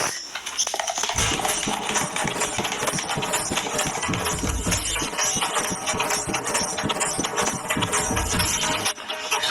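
An electric mixer whirring loudly as it blends face wash and moisturiser together, starting up after a second and running steadily, with a harsh motor drone that stops near the end.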